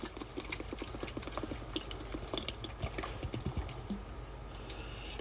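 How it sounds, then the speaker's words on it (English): Water poured into a jar of rose petals to make rose water: a soft, steady splashing and trickling with small dripping clicks throughout, quiet and close, with no talking. "all we do is pour water over this"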